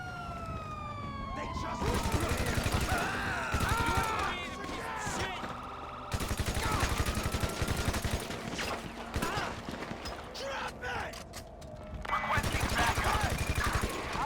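Gunfire in GTA 5, with bursts of shots mixed among sirens and other game noise, continuing over a player's voice across the whole stretch.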